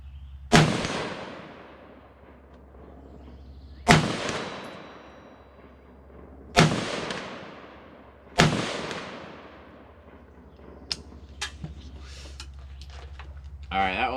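Four loud, evenly spaced rifle shots from a gun fitted with a UTG red dot and magnifier at an outdoor range, each crack followed by a long decaying echo, then a few faint clicks and handling noises.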